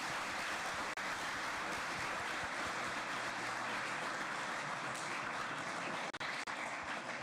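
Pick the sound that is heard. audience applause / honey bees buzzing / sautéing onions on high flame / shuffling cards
audience applause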